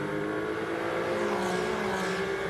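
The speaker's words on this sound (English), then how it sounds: "As you can hear the car accelerating out of the Parabolica." A Ferrari Challenge race car accelerates out of the Parabolica curve, its engine note rising steadily in a sustained high-revving drone, heard continuously and fairly close from on board, with no voices.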